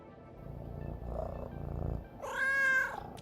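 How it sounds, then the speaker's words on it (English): A pet cat, a perpetually sleepy male, lets out a single drawn-out meow near the end, close and fairly loud, following a soft low purring or rustling and faint background hum. "The perpetually sleepy kitty."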